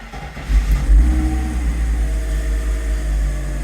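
A Mercedes 124 coupe 320CE cranks on a start attempt, a loud, close, steady mechanical churning with rhythmic low pulses that holds throughout, with no voice.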